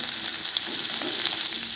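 Crushed garlic sizzles in hot oil in a heated kadhai, tempering for a pea and potato curry: a steady, dense, close frying hiss with a few stirring ticks and no talk.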